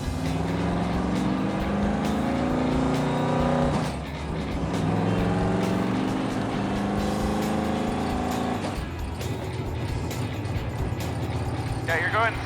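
Blasphemi's engine drones steadily at cruising speed on the road, a low sustained rumble with a brief dip in the middle, while people talk over it in the cabin.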